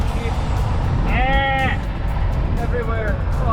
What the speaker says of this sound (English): Oh, all the sheep,